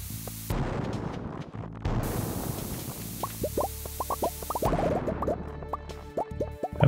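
Bombs going off while mining in Stardew Valley: several deep booming blasts, followed by a run of short bubbly plops and pops in quick succession, heard alone without talk.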